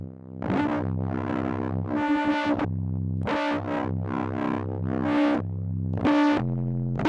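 A distorted synthesizer playing sustained chords and notes through a chorus effect, loud and up close, the wavering, moving tone filling every phrase with no talking over it.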